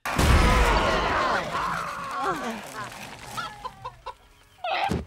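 Animated chicken clucking and squawking in the farm comedy Barnyard, loud and busy, mixed with cartoon voices, music and effects, with a few sharp bursts near the end.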